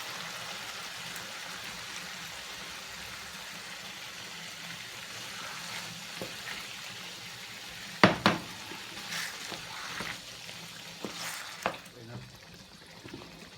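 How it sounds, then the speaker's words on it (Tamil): Tomato sauce poured from a bottle onto minced meat frying in a pan for lasagne bolognese, a steady soft sizzle throughout with a few sharp clatters and splashes near the end and occasional voices. "இப்போ டொமாட்டோ சோஸ் விடுறேன்"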